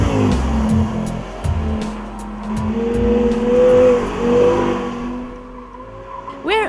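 An Audi R8 V10 accelerates hard on a racetrack. Its engine note climbs in rising sweeps through the gears, and brief tire squeals are heard. The sound is loud and close, with some faint background voices.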